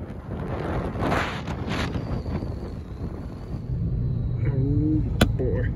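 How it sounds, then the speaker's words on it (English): Steady, loud wind buffeting a microphone during a steep mountain climb by vehicle on the drive from Red Lodge toward Yellowstone, a continuous rushing roar with a brief sharp click near the end. "The wind's gonna give us some noise."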